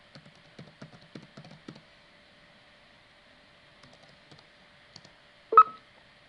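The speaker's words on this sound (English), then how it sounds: "I'll go ahead and put in my password now" A password is typed on a computer keyboard in short bursts of soft, quiet key clicks, a pause, a few more taps, then one louder sharp keystroke near the end, under a faint steady room hum.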